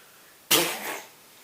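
A person's voice imitates a great sneeze: one sudden, forceful burst that trails off quickly, heard close and alone.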